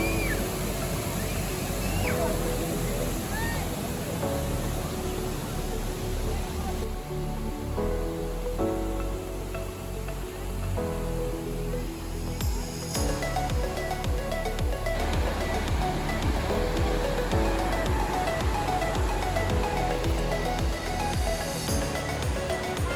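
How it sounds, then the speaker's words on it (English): Kulen Mountain waterfall in Cambodia, a loud, continuous rushing roar of falling water filling the whole stretch, with no pause in the steady wash. "this is the Kulen Mountain waterfall"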